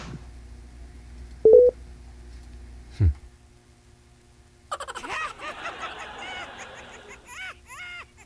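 A telephone call being redialed, with two brief keypad tones near the start, then a quiet gap before busier line sounds and faint voices follow.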